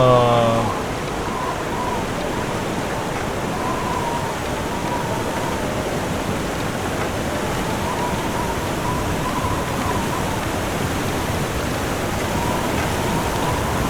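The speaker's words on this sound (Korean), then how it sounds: "와 바람소리가 폭포소리" Steady roaring wind like a rushing waterfall in the video game The Long Dark, loud and constant throughout, with a brief voice at the very start.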